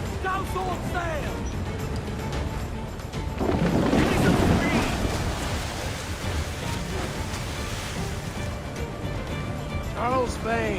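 Mortar fire strikes near a pirate ship in Assassin's Creed Black Flag, a loud booming blast and rumble rising mid-clip over constant sea and wind noise, with crew members shouting throughout.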